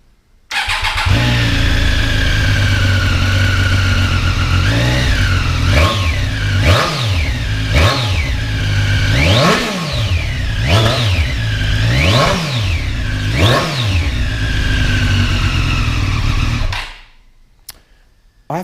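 A 2017 Triumph Street Triple RS 765 fitted with an Arrow exhaust fires up and idles loudly nearby, then is blipped through a series of about six sharp revs before cutting off abruptly.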